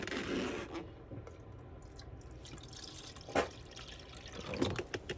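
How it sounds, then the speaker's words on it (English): Water poured into an arboreal snake's water bowl inside a pull-out drawer tub enclosure, with soft trickling, dripping and a few small plastic scrapes and knocks, quiet and close with no voices. "fill up the water bowl"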